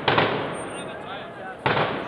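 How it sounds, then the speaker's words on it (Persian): Blasts go off in front of the Ministry of Communications building in Kabul: two sharp, loud bursts about a second and a half apart, joined by a sustained broad roar. "رویداد با یک انفجار در برابر ساختمان وزارت مخابرات آغاز شد"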